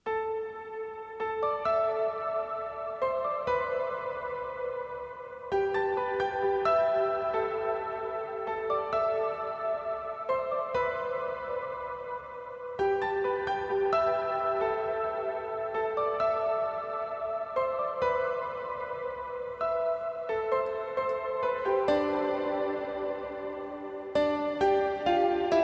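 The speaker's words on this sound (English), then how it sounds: "So the piano alone sounds like this." A solo piano plays a slow melody in octaves with a roomy, reverberant tail, each note ringing clearly and alone, no voices.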